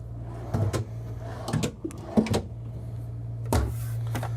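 Several short thuds and slides of storage drawers being opened and shut inside a 2025 Renegade Valencia 38BB motorhome, spaced irregularly over a steady low hum, close by.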